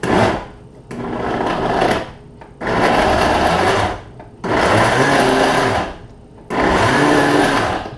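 A kitchen blender blends a thick banana and mango smoothie in four loud pulsed bursts of a few seconds each, the motor whining and straining, with short quiet gaps between pulses.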